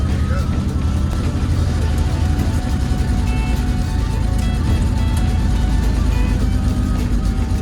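Chevrolet C10 pickup truck pulling away carrying a load, a dense rumbling engine and road noise filling the cab steadily and loudly throughout, with someone talking over it.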